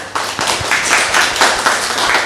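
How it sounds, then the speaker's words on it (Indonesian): An audience claps for a presenter at a lecturer certification teaching session, the applause steady and fairly close, filling the room with no talk over it. "kita berikan aplaus"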